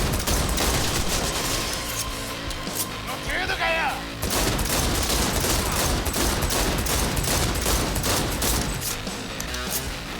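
Rapid bursts of gunfire in the video game Cyberpunk 2077, dense loud shots and booms filling the scene nearly continuously with a short gap midway.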